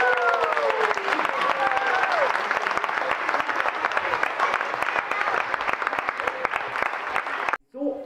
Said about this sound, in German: Jetzt dürfen die Großen noch für euch klatschen